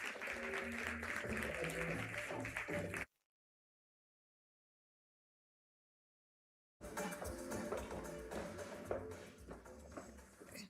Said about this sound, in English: let's clap our hands as we welcome our facilitator, Naledi.